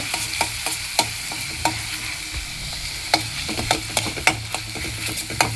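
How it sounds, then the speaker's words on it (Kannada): Finely grated ginger and garlic roasting in hot ghee: a soft, steady sizzle with frequent sharp clicks of a spoon stirring against the pan, close and without talk. "ಇದನ್ನು ಬಿಸಿಯಾಗಿರೋ ತುಪ್ಪಕ್ಕೆ ಹಾಕೋಣ. ಸ್ವಲ್ಪ ಕೆಂಪಗಾಗೋ ತನಕ ರೋಸ್ಟ್ ಮಾಡ್ಕೊಳ್ಳೋಣ."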